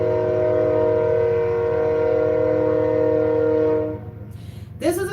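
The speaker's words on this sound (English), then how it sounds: "I don't ever want to hear another train ever again in my life." A train passes nearby, its horn sounding loudly as one long sustained blast over the rumble of the rail cars, then cutting off abruptly and leaving fading rolling noise and a brief sharp squeal at the end.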